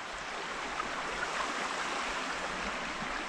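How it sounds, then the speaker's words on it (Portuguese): A forest stream flows along a trail in the Atlantic rainforest, a steady broadband rush of water heard close and loud, with no voices. "Olha essa água aqui, maravilha, galera."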